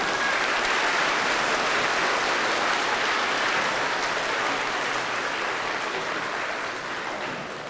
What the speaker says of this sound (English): Let's give one more round of applause to Bob